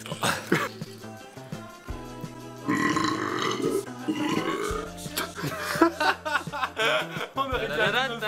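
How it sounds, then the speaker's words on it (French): A long, deep, drawn-out burp rumbles loudly up close, followed by chuckling and chatter from people nearby. "Oh, t'as roté!"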